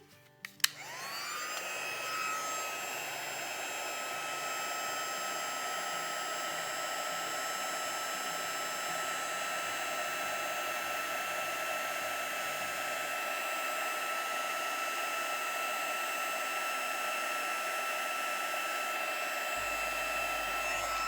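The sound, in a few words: heat tool heating a stamped card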